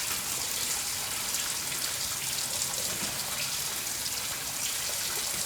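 Old coolant flushing out of a radiator pipe on a PX1 3.2L turbo diesel Ford Ranger, a continuous close hiss of gushing liquid that stays constant throughout.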